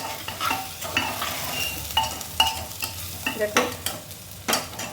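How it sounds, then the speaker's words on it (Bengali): Dalia and vegetables are stir-fried in a pressure cooker for vegetarian khichdi: a continuous sizzle broken by repeated scraping strokes of a spatula against the metal, close and fairly loud, with a brief word spoken. "এবারে এই সবজিগুলির সাথে ডালিয়াটাকে একটু নাড়াচাড়া করে ভেজে নেব।"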